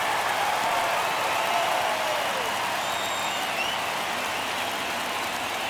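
A baseball stadium crowd at a Guardians versus Tigers game in the ninth inning keeps up a steady roar of cheering and clapping, broad and continuous, with a few whistles rising above it.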